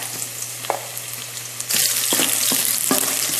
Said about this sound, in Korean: 파만 미리 이렇게 볶는 거를 파기름 낸다 하거든요.